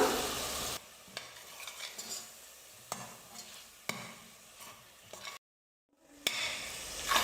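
Mushroom rice with curd and masala is stirred in a pan over medium heat, producing soft sizzling and periodic sharp utensil knocks. A brief silent gap comes near the end, and no one speaks.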